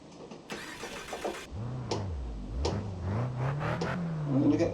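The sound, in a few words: Honda Civic Type R engine starting in Project CARS 2 video game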